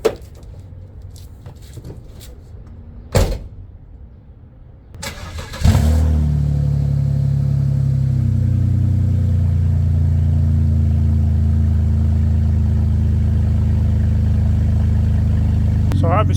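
A BMW 330Ci with its exhaust cut off cranks briefly after a quiet stretch, then catches and settles into a loud, raw, steady running drone that continues to the end.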